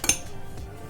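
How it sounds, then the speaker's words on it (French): A utensil clinks sharply against a bowl, followed by a faint scraping, while ground almonds are stirred with icing sugar. Very short and close, no speech. "nos amandes moulues avec le sucre glace. Donc là il faut vraiment tout remuer"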